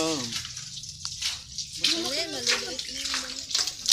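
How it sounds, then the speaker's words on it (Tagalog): A water tap runs steadily with a continuous splashing gush, close and fairly loud, while a person talks over it. "Isasara ko na tong gripo."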